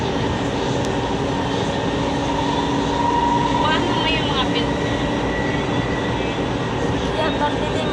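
Steady rumble and rattle inside a moving train carriage in Cavite, Philippines, a continuous hum with faint squeals, and people talking softly in Filipino in the background.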